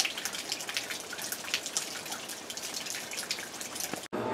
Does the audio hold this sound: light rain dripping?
yes